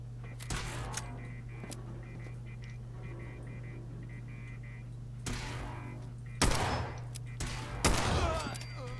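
Gunfire from the game Fallout 4, a few sharp shots scattered across the clip with one loud burst near the start and two bigger blasts toward the end, over a steady low game hum.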